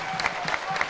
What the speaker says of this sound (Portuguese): Eu peço uma salva de palmas aqui para o prefeito de São Paulo